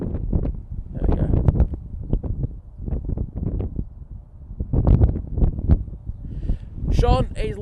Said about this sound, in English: It's windy today. I've had to turn down the mic.